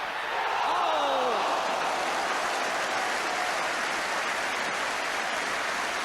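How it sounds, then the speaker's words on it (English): Warm crowd applause in a packed football stadium during a 1987-88 Tottenham Hotspur match, a steady dense wash of clapping and crowd noise that holds evenly throughout. "Warm applause for Paul Moran"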